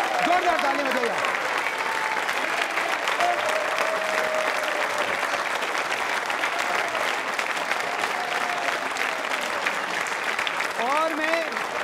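Loud, sustained audience applause at a Yoga Day quiz show event, dense and continuous throughout, with a few voices and cheers mixed into the clapping.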